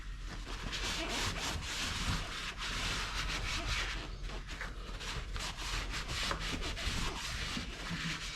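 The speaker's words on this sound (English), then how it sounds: "we're just going to take a minute to clean up any debris right here" Debris being wiped and rubbed off the top of a Toyota Tundra fuel tank during a fuel pump replacement, a continuous close scrubbing and rubbing sound with uneven strokes and no talk.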